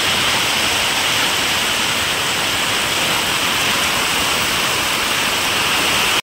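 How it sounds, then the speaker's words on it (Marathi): Heavy rain pours down in a steady, loud, dense roar that stays constant throughout, close by and with no voices over it. "खूप असा जोरातचा पाऊस चालू मित्रांनो"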